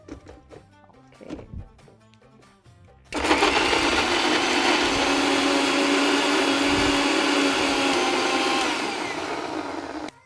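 A mixer grinder blends onions and tomatoes into a paste with no added water. After a few quiet clinks, it starts with a loud, steady, close whir for about seven seconds, easing slightly before stopping.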